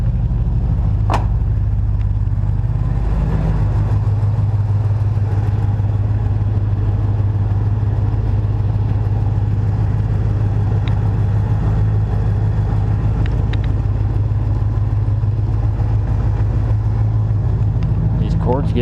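A car engine idles steadily in neutral during a cold-weather warm-up, a continuous low hum running throughout with faint occasional clicks and knocks over it.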